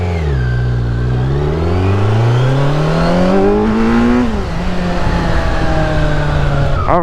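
A Kawasaki Z900 motorcycle engine revs up hard, its pitch climbing steadily and then easing off, loud and close over the whole stretch with no talking.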